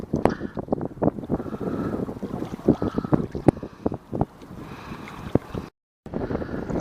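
Wind gusts buffet the microphone along a rocky lake shore during fishing, giving a loud, uneven rumble with bursts and brief lulls throughout.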